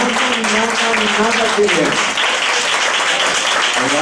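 Applause from a church congregation, steady and dense throughout, with a preacher's voice speaking over it.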